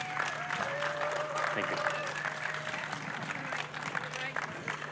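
Crowd at a fair applauding a congressman, steady clapping throughout with a voice briefly speaking over it and a constant low hum underneath.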